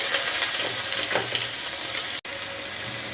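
Chopped onions hiss as they fry in hot oil with cumin, a steady close-up sizzle that briefly cuts out near the end before resuming.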